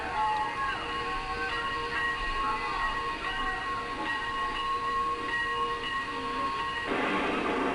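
A train rolls past at a distance, a fairly faint steady rumble with squealing wheel tones, and the noise surges toward the end.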